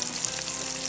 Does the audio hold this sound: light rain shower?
no